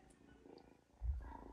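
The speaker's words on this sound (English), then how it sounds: "He's already purring." A soft, low rumbling purr from a cat close by, steady and quiet, swelling louder near the end.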